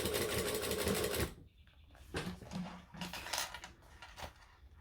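A sewing machine runs a steady, close burst of top stitching on a clutch bag for just over a second, then stops, leaving only faint handling noises and light clicks.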